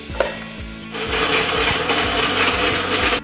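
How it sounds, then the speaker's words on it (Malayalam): A kitchen mixer grinder chops jackfruit seeds and chili for chammanthi. A few quiet clicks come first, then the motor roars into a loud, steady grinding whir with a rhythmic thud of pieces tumbling in the jar. "ചക്കക്കുരും മുളകുമാണ് ആദ്യം നമ്മൾ അരച്ചെടുക്കാൻ പോകുന്നത്."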